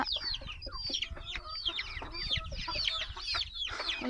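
Chickens and chicks on a farm cluck and cheep continuously in a busy, overlapping chorus of short calls, fairly close, with no talk.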